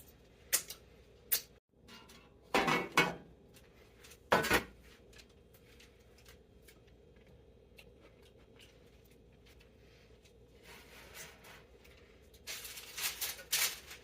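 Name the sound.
putting parchment paper into a baking pan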